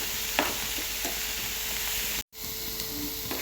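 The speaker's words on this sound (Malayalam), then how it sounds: "എല്ലാം കൂടെ നന്നായിട്ട് നമുക്ക് വഴറ്റിയെടുക്കാം" Onion and tomato sauté in a pan with a steady, soft sizzle and hiss, punctuated by a few light scrapes of stirring and one brief dropout in the middle.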